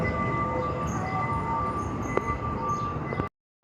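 Amusement park train ride at Icon Park: a steady rumbling hum with a sustained tonal whine and a brief clack, running loud and close before cutting out abruptly near the end.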